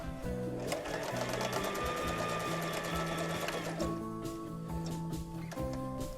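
A sewing machine stitches fabric strips together for a patchwork bag, its motor whirring steadily and close throughout with a rapid mechanical needle rattle that shifts pitch slightly as the speed changes.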